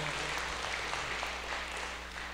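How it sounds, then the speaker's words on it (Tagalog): A church congregation claps together in steady, sustained applause, heard at moderate distance in a reverberant room. "Muli po isang buhay na palakpak para sa ating Panginoon."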